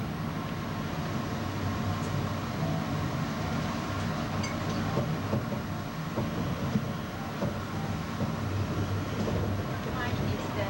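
A train rumbles steadily along the busy Conrail mainline, a continuous close mechanical roar with faint clanks, heard from on board.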